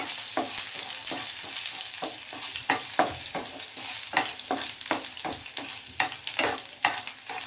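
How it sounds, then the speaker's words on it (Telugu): Crushed garlic sizzles steadily in hot oil for carrot pickle while a spoon scrapes and stirs the pan in a regular, close, loud rhythm, with no voices. "వెల్లుల్లిపాయలు వేయాలి. ఇది కూడా బాగా కలపాలి."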